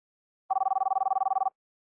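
An unanswered outgoing phone call, heard as a steady ringback tone pulsing rapidly for about a second, loud and alone.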